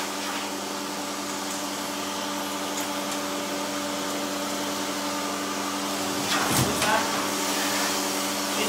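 An Artero M2 pet blaster dryer runs steadily during the grooming of a Schnauzer, a loud continuous whooshing roar with a brief surge near the end and no talking.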